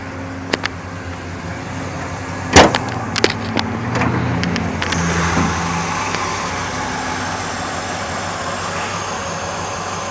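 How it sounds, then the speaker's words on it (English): A 1968 Pontiac LeMans engine idles with a steady low rumble, interrupted early by a few sharp clicks and knocks nearby before settling into an even, continuous hum. "Got a great idle to it, it sounds great."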